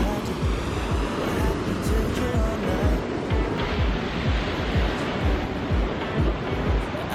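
Strong ocean waves surge and crash continuously at a beach in Mallorca, a loud, steady roar of surf with wind noise across the microphone and no pauses between breakers.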